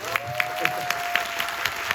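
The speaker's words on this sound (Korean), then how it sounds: "자 박수 한번 보내주실까요?" Short stretch of audience applause at a Korean film event, steady clapping with regular sharp accents and a faint tone beneath.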